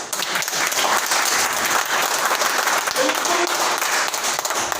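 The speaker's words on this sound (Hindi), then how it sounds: "तालियों में कमी नहीं होनी चाहिए।" A crowd applauds continuously at a motivational talk in India, dense steady clapping filling the whole stretch, fairly loud with a faint voice briefly audible beneath it.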